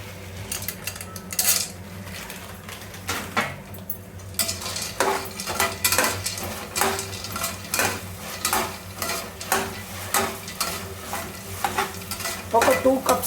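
Meal maker soya chunks are stirred and fried in a pan, a spoon scraping and clinking in steady strokes over a constant sizzle.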